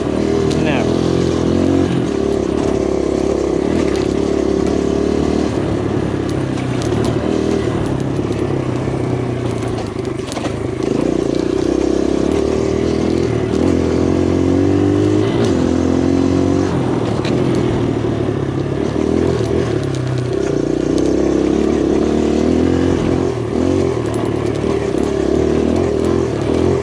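2023 Kawasaki KLX140RF dirt bike ridden hard on trails, its engine droning loud and steady throughout with revs rising and falling and scraping trail noise mixed in.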